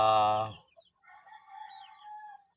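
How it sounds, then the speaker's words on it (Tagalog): Backyard chickens kept by a Filipino owner, with a short loud crow-like call at the start followed by softer, scattered clucking and chirping, close by with no talk over them. "Yan po ang mga manok ko."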